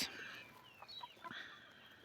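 Andijan black chickens cluck softly in a pen, several short calls over steady background noise, with no talking.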